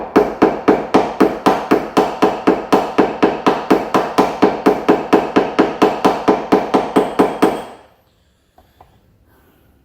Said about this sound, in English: I'm just gonna tap that ridge down.